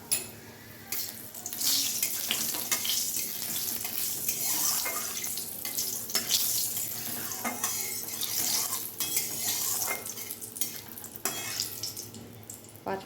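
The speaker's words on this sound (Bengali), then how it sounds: "এর মধ্যে দেখো তেজপাতা দিয়ে দিলাম, আর 5 ফোড়ন" Bay leaf and panch phoron five-spice sizzle steadily in hot oil, a continuous hissing crackle with occasional louder pops, close and fairly loud throughout.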